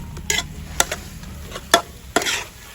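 Spicy frog being stir-fried with holy basil, a spatula scraping and clanking against the pan in about five sharp, separate strokes over a low, steady sizzle, close and fairly loud.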